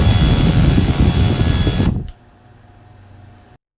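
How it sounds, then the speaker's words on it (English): A Yuneec Typhoon H drone sitting on the ground whines loudly with its rotors spinning, then cuts off abruptly to a faint residual hum before silence. "Gently center the left stick and press the Start-Stop button until the rotors turn off."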